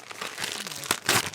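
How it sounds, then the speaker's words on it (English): Crinkly paper crumpling and rustling as Christmas gift wrapping is pulled open, with a couple of sharper tearing bursts toward the end, close and fairly quiet. "Unwrap away, and then we'll find out what you've all got."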